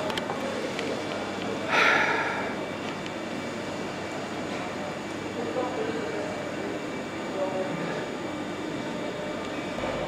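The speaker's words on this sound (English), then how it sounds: "I heard the doors closing on the 319 and it left without me" A train pulls out of Crewe railway station with a continuous low rumble and a brief bright squeal early on. Steady station background and faint voices carry on beneath it.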